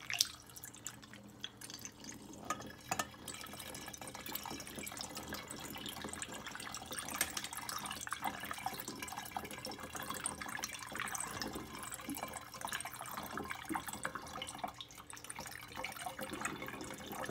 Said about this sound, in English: Now we'll add the juice.